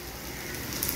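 Heavy monsoon rain pours down steadily at home, a dense, even hiss of drops filling the whole second with no break and no voices.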